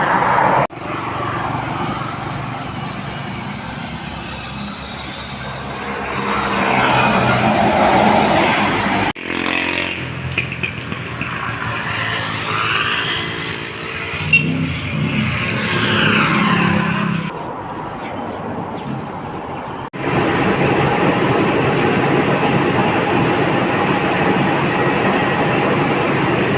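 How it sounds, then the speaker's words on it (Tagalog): Vehicles rush past along a roadside one after another, their loud engine and tire noise swelling and fading in continuous waves, with faint talk in the background. "Manood muna ng mga sasakyan nagdaraan."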